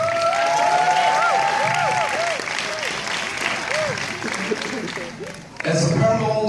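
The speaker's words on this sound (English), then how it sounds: "So I'm going to give the director and cast a big round of applause." An audience applauds at the gala premiere of a horror film, dense clapping at close range with speech heard over it, fading briefly before a fresh burst of clapping and talk.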